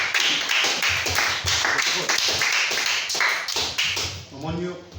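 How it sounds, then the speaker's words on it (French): A crowd at a French-language church gathering claps loudly and continuously in dense, overlapping bursts for a mother, then the applause fades as a voice begins. "Acclamez très fort pour elle."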